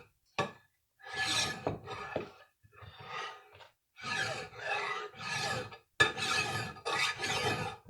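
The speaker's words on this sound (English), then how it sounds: "you can do your flat file, and make sure your file's flat" Flat file rasping across a Briggs and Stratton opposed-twin intake surface, a series of scraping strokes in irregular bursts separated by short pauses, close up and with no talk.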